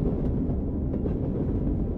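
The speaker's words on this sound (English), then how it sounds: "the sound of the wheels on the rails" Train wheels rolling on rails, a soft, steady low rumble with faint irregular clicks, continuous and muffled as if heard from inside a passenger car.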